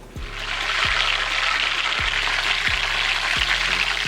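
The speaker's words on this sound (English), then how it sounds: "just adjust the flame down and let it fry" Steady, loud sizzling of Jamaican fried dumplings in a pot, a continuous crackling hiss with occasional soft pops and no voices.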